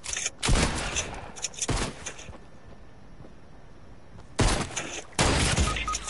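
Bursts of SMG gunfire rattle in a video game, several loud rapid volleys separated by quieter gaps with a faint steady tone.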